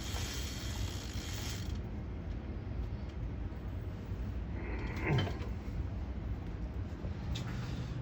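A Kink Curb BMX bike's cranks are turned backward, giving a soft continuous mechanical whir and ratcheting hiss from the freewheel, steady and close, with one brief sharper click partway through and no speech.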